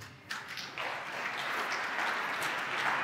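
An audience claps steadily after a speech about a public cause, the applause rising quickly and holding as a dense, even wash of hands for several seconds.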